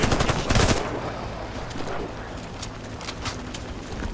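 Rapid gunfire from the video game Warface, a loud burst of automatic shots at the start followed by scattered crackling shots and game noise in a dense, continuous mix.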